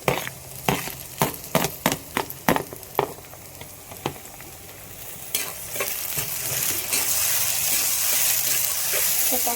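Onion and tomato sauté in a pan for a country chicken fry, opening with a run of sharp spatula scrapes and clinks against the pan, then settling into a steady, close sizzle that builds and holds to the end.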